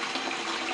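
A quicksand gold concentrator running water over gravel from a creek, producing a continuous rushing, splashing wash at a steady level with no talking.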